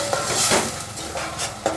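Kasuri methi stirred and roasted in a pan with vegetables, with a steady metallic scraping of a spoon against the pan over a faint sizzle, close up and with no talk.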